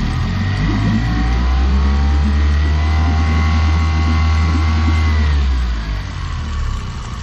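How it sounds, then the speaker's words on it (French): A four-stroke outboard motor runs on a dinghy, giving a steady, loud, close engine hum with a low drone that eases slightly near the end, with no talking. "Voilà, j'ai démarré le moteur."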